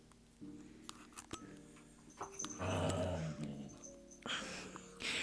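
Dogs growl and whimper indoors at close range, with low rumbling bursts and a few sharp yips that come and go across a few seconds.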